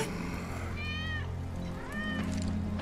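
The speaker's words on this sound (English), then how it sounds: "That's Wedge's cat." A cat in Final Fantasy VII Remake meows twice, clear rising-falling cries over a steady low game ambience hum.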